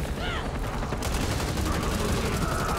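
Dense gunfire from the zombie shooter video game Back 4 Blood rattles in a continuous, loud burst of rapid shots with no pauses, filling the whole short stretch.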